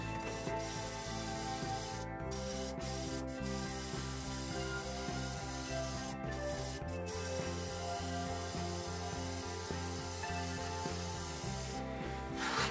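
A wood lathe turning a Movingui wood bowl as the tool cuts and throws off fine dust, giving a continuous loud rubbing, scraping drone with a steady hum and brief gaps in the cut.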